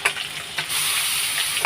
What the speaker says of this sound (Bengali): এদিকে মাছ ভাজা আছে, পাঁচটা মাছগুলো ভাজছে।